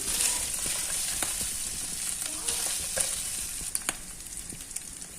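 Beef sautés in a pan for a creamy beef sauté, giving a continuous loud sizzle with scattered crackles and pops, close by and without talking.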